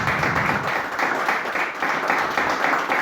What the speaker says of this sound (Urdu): تو آپ کی بھرپور تالیوں میں ہم ویلکم کریں گے مہربان علی کا